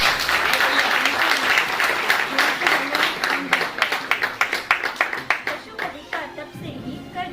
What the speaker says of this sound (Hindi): जोरदार तालियां कृष्ण महाराज के लिए.